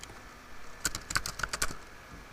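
An email being typed on a computer keyboard: a short burst of close, crisp key clicks in quick irregular succession after a quiet moment, with no speech.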